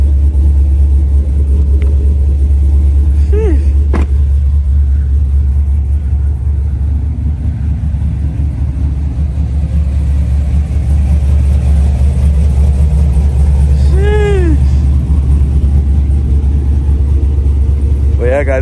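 A freshly tuned truck drives along with its engine rumbling loud and steady throughout, a deep continuous drone heard from inside the cab with the sunroof open, with some faint whistling tones over it.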